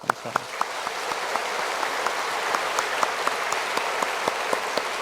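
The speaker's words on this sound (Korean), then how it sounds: "우리 환영의 박수를 하겠습니다" A church congregation at a Sunday service gives welcoming applause for visiting Vietnamese Presbyterian ministers, a steady even roll of many people clapping, with a few sharp claps near the start.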